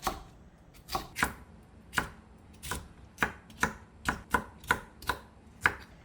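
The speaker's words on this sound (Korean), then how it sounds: "이렇게 해서 한 입 크기로 이렇게 자르세요" A knife cuts seeded bell pepper into bite-size pieces on a board, about a dozen crisp, evenly spaced chops close by, with no voices.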